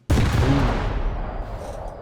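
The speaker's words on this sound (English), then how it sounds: "I love how it does actually rock back the fucking rock back the entire tank whenever you fire" A tank's main gun in a video game fires one loud, booming shot that hits abruptly and then rolls out into a long, decaying rumble.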